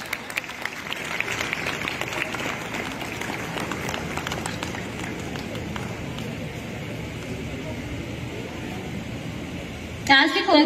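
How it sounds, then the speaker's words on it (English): Applause for the school flag at an international school cabinet installation ceremony, a sustained crowd clapping that holds at moderate level throughout before a louder burst of sound at the end. "A big round of applause for our MV International School flag."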